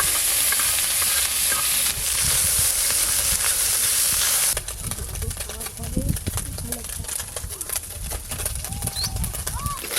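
Small fish crisp in hot oil in a pan with a loud, hissing sizzle for several seconds, then the sound drops to quieter clatter and handling noises.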